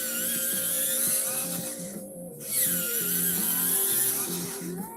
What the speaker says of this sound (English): my poor sharpener, I need to empty it again